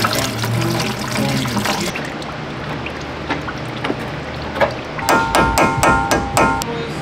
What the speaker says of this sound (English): once I take this cap off, it should start pouring